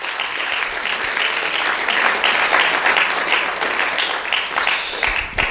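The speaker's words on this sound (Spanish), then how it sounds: "Fuerte el aplauso." Steady applause from a church congregation, dense clapping sustained at a fairly loud level throughout with no voices on top.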